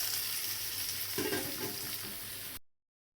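Mixed winter vegetables hitting hot oil and spice masala in a pan set off a loud, dense sizzle, with stirring scrapes and crackles swelling midway, close up and without any voices.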